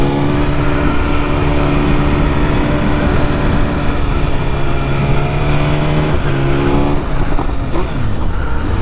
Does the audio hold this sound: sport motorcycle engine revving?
yes